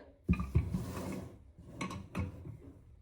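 A pressure cooker with a raised lid cap is set down beneath a shelf divider in a kitchen island cabinet, giving a few close metallic knocks and clunks near the start and again toward the end, with no talking.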